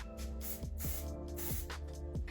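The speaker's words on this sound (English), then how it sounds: "And I love to use this hairspray just to make everything nice and perfect." Hairspray hisses in several short bursts onto hair during a makeup routine, close and fairly quiet, with brief pauses between sprays.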